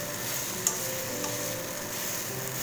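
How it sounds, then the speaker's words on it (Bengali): Grated taro paste being stirred in a kadai, a steady soft scraping and sizzle with one sharp clink of the spoon near the start, close and continuous. "একটু বাদে বাদে কিন্তু সমানে একদম এইভাবে নিচ থেকে এরকমভাবে তুলে কচু বাটাটাকে না নাড়বেন নাহলে কিন্তু তলায় লেগে যাবে"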